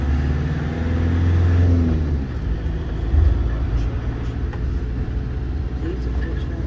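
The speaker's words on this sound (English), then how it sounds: "Too many flipping cars though for a movie set" Cars passing along a road through a scenic Devon, Somerset or Cotswolds village, a continuous rumble of engines and tyres with one vehicle swelling loudly up close early on, then steady traffic noise throughout.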